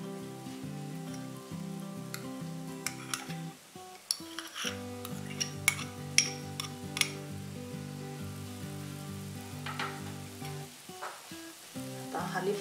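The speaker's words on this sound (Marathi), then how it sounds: "आता हलीम यात मिक्स करायचंय." Halim seeds being stirred into a hot jaggery and coconut mixture in a pan, a soft continuous sizzle with scattered scraping and clicking of the spoon against the pan.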